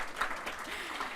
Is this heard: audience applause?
yes